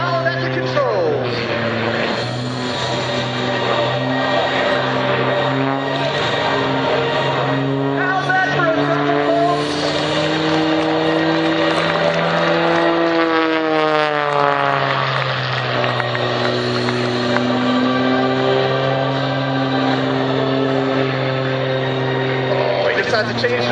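At an airport airshow, an aerobatic propeller plane performing an inside tumble drones loudly and continuously, its engine pitch bending up and down through the maneuver, with a voice talking over it.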